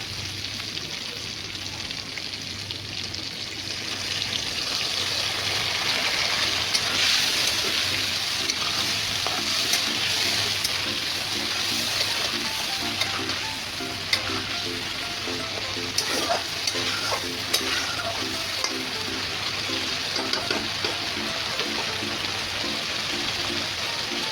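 Egg curry sizzles and crackles loudly in a hot pan after a little water is added, a continuous frying hiss with occasional stirring clicks, and no talk over it.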